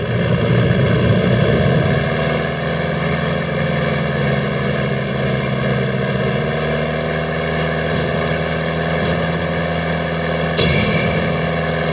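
A propeller airplane engine in the video game Far Cry 6 drones steadily and loudly throughout, a sustained harmonic hum with a few brief high-pitched blips near the end and no talking.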